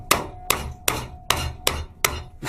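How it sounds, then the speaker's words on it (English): A hammer strikes metal being bent into shape, six sharp, evenly spaced bangs about half a second apart, close and loud with brief ringing. "So how I bent the metal into shape, I basically had my hammer like this"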